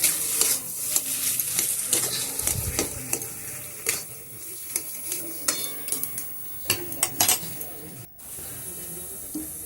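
Potato filling for kachori being stirred in a pan, with repeated scraping and clinking of a utensil against the metal over a soft steady sizzle, close and continuous.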